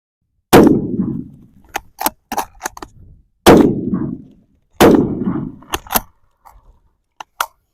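Rifle fired while zeroing a Skinner scout rail sight on a bush rifle, three loud close shots with ringing decay spaced a few seconds apart, followed by clanks and clicks of handling.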